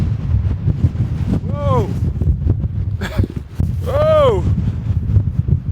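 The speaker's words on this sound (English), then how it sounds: "We're getting gusts. That big wind gust almost just took the camera." Strong wind gusts buffet the microphone in a mountain blizzard, a constant loud rushing roar with surges, while a person shouts and talks over it.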